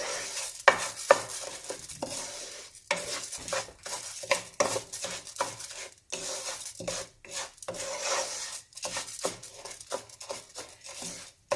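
Rice stir-fried in a pan until toasted for Mexican rice, heard as repeated scraping and stirring strokes of a utensil against the pan with a faint sizzle underneath, fairly close and uneven in rhythm.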